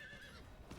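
A horse whinnies briefly and faintly in the Diablo IV video game, a single short neigh with a hint of hoofbeats.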